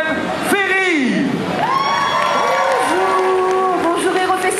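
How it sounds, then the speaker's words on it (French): A festival crowd at a cosplay contest in Marseille cheers and whoops loudly, with a voice calling out over the noise and shouts rising and falling throughout. "Et je vous demande d'applaudir sur scène Ferry."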